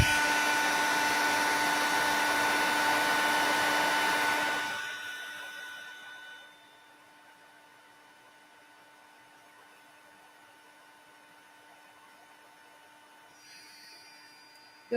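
A heat embossing tool blows with a loud steady whirring drone over a watercolor card, then switches off about five seconds in, leaving faint room hum and a brief light rustle near the end.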